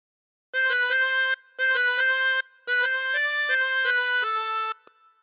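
Harmonica playing a melodic phrase with bent notes, three sustained breathy phrases of reedy tones separated by short gaps, close and clear with no talk.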